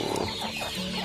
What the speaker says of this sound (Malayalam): ഈ കോഴികളെ പറമ്പിൽ അഴിച്ചു വിടുകയാണ് ചെയ്യുന്നത്